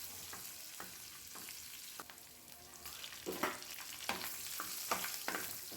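Garlic and dry red chillies frying in oil in a pan, a steady low sizzle broken by repeated stirring scrapes and clinks, close and moderately quiet, with no talking.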